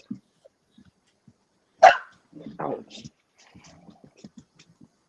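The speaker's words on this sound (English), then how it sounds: "Yeah, I heard your dog." A pet dog gives a single sharp bark or yelp up close, followed by softer whimpering sounds, with brief speech nearby.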